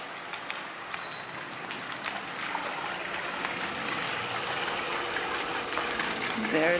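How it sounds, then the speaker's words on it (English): Backyard pool waterfall at a home, a steady broadband splashing and trickling of falling water running throughout at moderate level, with faint bird chirps and occasional light voices in the background. "The waterfall that you can hear throughout the home."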